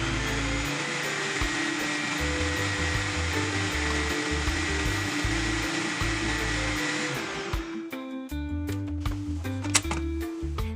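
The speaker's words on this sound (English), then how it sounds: "Just toss everything into a blender. Blend until smooth and creamy." A blender whirs loudly and steadily for several seconds blending a smoothie, then cuts off, leaving scattered clicks and light clatter.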